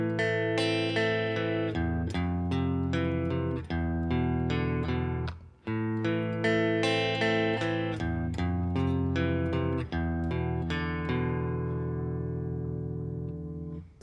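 Guitar strumming the chord progression of a song, with bright ringing chords, a short gap before one change and a final chord left to ring out, alone and close.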